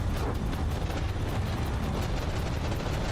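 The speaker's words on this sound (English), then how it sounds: "Oh no, we're missing so many shells." Naval shells firing and bursting in the From the Depths battle game, a dense, continuous rumble of booms and pops that stays loud throughout with no breaks.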